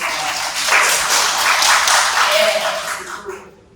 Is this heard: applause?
yes